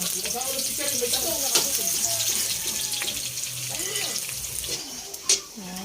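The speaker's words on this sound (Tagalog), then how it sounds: "At kami po ay magigisa na ni tatay. Sibuyas. Luya. Bawang." Onion, ginger and garlic sautéing in a pan for escabeche produce a continuous near sizzle with stirring scrapes, while a voice talks over it.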